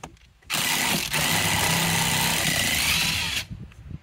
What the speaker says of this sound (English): bringing out the big gun